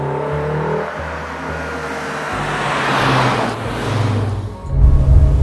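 A 1990 Mercedes-Benz 190 E 2.5-16 Evolution II engine revs and shifts through gears on a racetrack, droning low then rising into a louder roar near the end.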